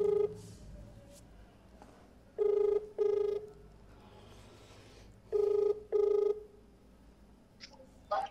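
Four loud telephone ring bursts come in two paired groups, each a steady, bright, sustained electronic tone, with quiet background noise and a short blip near the end.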